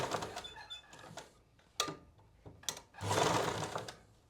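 A sewing machine stitches a neckline in short bursts, with a loud, sustained run near the end and quieter intermittent stitching and handling before it.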